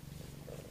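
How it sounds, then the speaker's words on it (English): A cat purrs close up, a soft continuous low rumble with a steady pulsing texture, heard alone without talking. "She's purring just for you."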